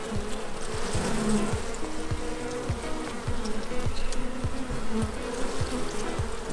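A dense, continuous buzzing of many honeybees on a hive frame during a spring hive inspection, close and steady, with low droning hum and occasional louder passes near the listener.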